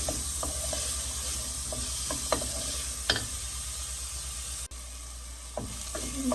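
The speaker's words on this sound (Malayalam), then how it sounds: "നമ്മുടെ ചെറിയ ഉള്ളി അരിഞ്ഞ് വെച്ചിരിക്കുന്നത് ഇടണം. അതൊന്ന് മൂപ്പിച്ചെടുക്കണം" Chopped shallots frying in oil for a Kerala mutton curry give off a steady, dense sizzle. It sounds close and even, with occasional light scrapes and clicks of a spatula and no voices.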